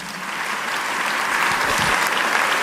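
A church congregation breaks into loud, sustained applause during a pastor's sermon, a dense, steady wash of clapping that holds at an even level throughout with no voices rising above it.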